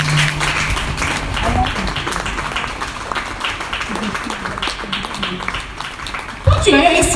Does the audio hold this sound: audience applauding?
yes